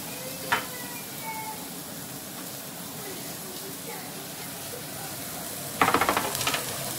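A chicken and cheese omelette mixture fries in a pan, giving a soft continuous sizzle with a brief clatter early on and a burst of louder crackling near the end, close by.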